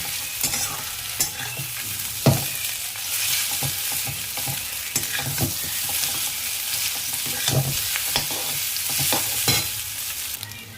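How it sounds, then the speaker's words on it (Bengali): Chow mein being stirred in a frying pan, with continuous hissing sizzle and repeated scraping, tossing strokes at an irregular rhythm, close and fairly loud. "চাউমিনটা দিয়ে এবার আমি এটাকে মিক্স করবো।"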